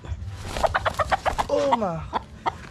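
A chicken being handled for a vaccine injection in the breast clucks repeatedly in quick, uneven bursts, with one drawn-out squawk in the middle, close by against low background noise.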